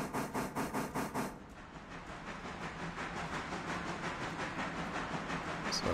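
A locomotive in the video game Railroader rolls along steadily, with rhythmic mechanical chuffing that is strong at first and then gives way to a continuous rumble and hiss, with no one speaking.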